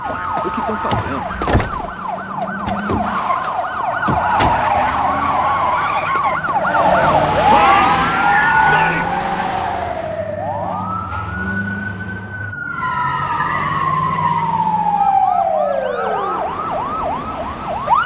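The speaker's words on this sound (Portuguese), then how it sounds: "Já era, estou ouvindo as sirenes." Police sirens in an action film bank-robbery scene, several wailing and yelping sirens overlapping and sweeping up and down, loud and close, with engine noise underneath.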